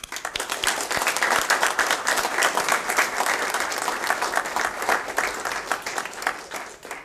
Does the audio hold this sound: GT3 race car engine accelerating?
no